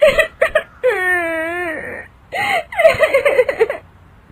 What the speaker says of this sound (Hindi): तभी उसकी दादी सास को रोने की आवाज आती है